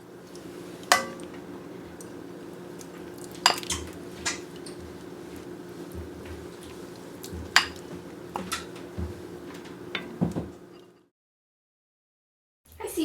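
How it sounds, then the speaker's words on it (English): Pork green chili being dished up with utensils, giving scattered clinks and scrapes of a spoon against a pot and dishes over a low kitchen hum, ending in a brief silence. "Okay, it's ready to serve. I'm gonna dish it up, and then CJ's gonna have a taste."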